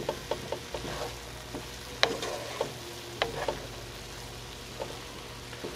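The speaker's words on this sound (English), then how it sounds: "once you mix your rice" Cooked rice, about 2.5 cups, stirred in a pan for Mexican meatball rice, giving a soft steady sizzle with scattered scraping clicks and spoon taps at irregular intervals, close and moderately quiet with no talking.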